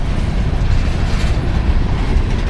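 A freight train rolls in at Loyall on the CV line, a loud, steady, heavy rumble of wheels and cars that holds without a break and has no voices over it.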